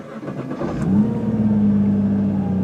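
A Nissan GT-R R35 engine cranks over and catches, settling into a deep, steady idle rumble close by.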